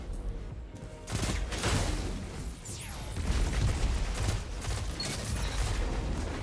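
Rapid bursts of pulse rifle fire in the video game Destiny, during a Trials match, loud and close with overlapping shots and clattering effects over about six seconds.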